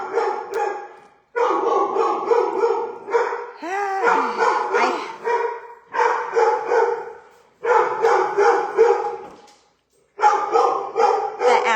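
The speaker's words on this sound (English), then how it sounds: "That's my dog, Stella." Stella, a household dog, barks loudly and close in repeated bursts separated by short pauses, with a brief whine in the middle.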